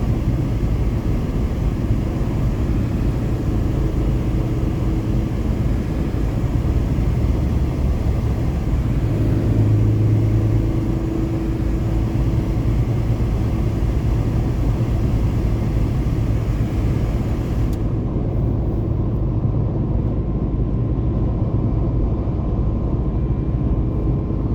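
A car cruising steadily on a highway under driver assistance, with continuous low road rumble and engine whir throughout, fairly loud and even, the upper hiss dropping away near the end.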